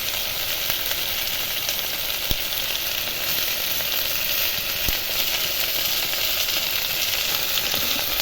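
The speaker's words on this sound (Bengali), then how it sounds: "এবার ভালো করে কচুটাকে কষিয়ে নেব" Taro chunks fry steadily in hot oil with salt, turmeric and chili powder, giving a dense, even sizzle and hiss. Two faint clicks break the sound, and nobody speaks.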